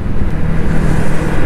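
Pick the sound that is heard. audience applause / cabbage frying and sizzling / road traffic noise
road traffic noise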